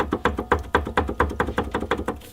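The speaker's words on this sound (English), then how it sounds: "that noise is the clunking noise that I'm trying to source from this coil." A car's coil spring suspension clunks in a quick, even series of knocks, about a dozen dull thuds in two seconds, moderately close with no talking.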